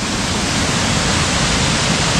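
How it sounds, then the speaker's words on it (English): A waterfall in the centre of Newcastle pours in a constant loud broadband roar of falling water, steady and close with no breaks. "there's the waterfall. Right in the centre of Newcastle"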